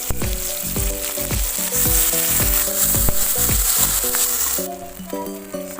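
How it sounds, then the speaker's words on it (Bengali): Bay leaf, dried red chillies and five-spice seeds sizzle in a little mustard oil in a kadai, a steady bright hiss running throughout beneath louder melodic background music. "কড়াই অল্প একটু সরিষার তেল দিয়ে তেজপাতা, শুকনো লঙ্কা, 5 ফোড়ন।"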